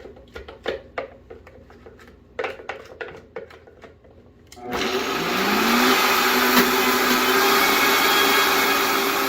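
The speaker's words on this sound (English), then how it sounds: "we're going to just scrape it down and blend a little more" Spatula taps and scrapes against a blender jar, then the blender starts and runs loud and continuous, whipping a vegan butter filling for cinnamon rolls.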